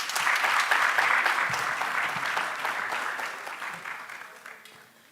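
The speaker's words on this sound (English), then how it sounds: "Round of applause." A conference plenary audience claps in a dense burst that starts loud and slowly tapers off toward the end, with no voices on top.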